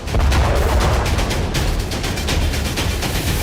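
Missile strike blast in a residential area of Karabakh, heard as a dense, loud, sustained roar of rumbling explosion noise with crackling bursts throughout, no voices.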